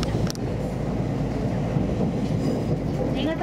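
A 485 series limited express Inaho train runs along the Hakushin Line from Niigata toward Shibata, heard from inside the car as a steady, close, continuous rumble of wheels on rails.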